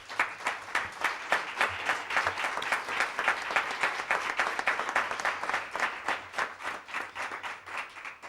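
An audience applauds author Ángeles Valero at a book presentation for El Yelmo, a steady, dense round of clapping that holds evenly for several seconds and eases slightly toward the end, with no voices over it.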